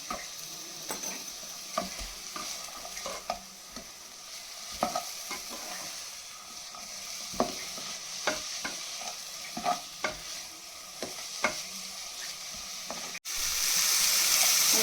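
Vegetables for white sauce pasta frying in a pan with salt, a continuous soft sizzle punctuated by regular spatula scrapes and taps, with a brief louder burst at the very end.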